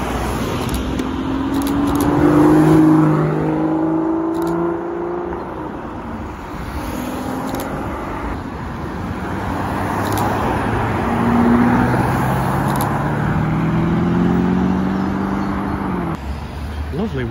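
A white Aston Martin DBX drives past in a village street, its engine swelling and fading, then a second rise of vehicle noise, while someone talks over it.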